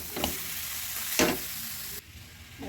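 Patishapta filling stirred in a hot pan, with a steady frying hiss and a couple of scraping strokes of the spoon, fairly close and with no talking.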